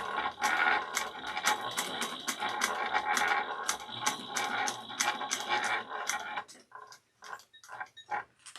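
A sewing machine stitches a small bowler bag gusset with an eighth-inch seam, rapid clicking bursts of needle action up close, then stopping and restarting in short, choppy runs.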